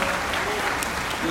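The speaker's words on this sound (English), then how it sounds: "Can we just give her a round of applause?" Audience applause at a convention for a speaker's wife, dense and loud clapping filling the whole short moment.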